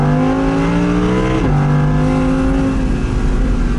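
Audi R8 V10 RWS with its 5.2-litre V10 revving loudly up close, a sustained harmonic engine drone whose pitch dips sharply once, then holds steady and strong.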